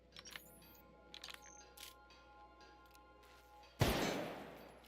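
A single loud gunshot in The Outer Worlds video game, a sharp close crack that decays into a rumbling tail near the end, after scattered quiet clicks.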